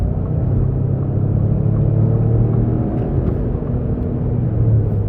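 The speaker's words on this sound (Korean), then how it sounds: "지금도 한번 추월 가속력을 체크해 볼까요?" A Ford Expedition facelift accelerates hard to overtake, heard from inside as a steady loud low engine and road rumble without talk.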